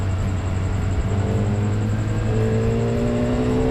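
A Kawasaki ZX25R motorcycle riding through city traffic on the way to work, its engine a loud, steady high-pitched whine that rises gradually in pitch under constant wind and road rumble.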